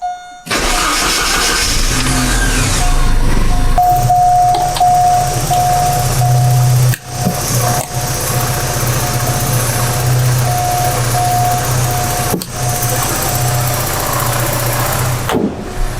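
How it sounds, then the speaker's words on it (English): A vintage Porsche 944 Turbo engine cranks and fires, then idles loudly and steadily at close range, with a few brief revs and dips and a sharp cutoff near the end. "Start the car."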